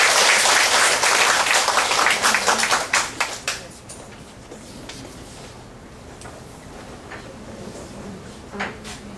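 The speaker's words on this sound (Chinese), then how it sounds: "我们先鼓掌，欢迎国际法师。" An audience at an evening Buddhist talk welcomes a monk with loud, dense applause that tapers off after about three seconds, leaving scattered claps and faint room noise.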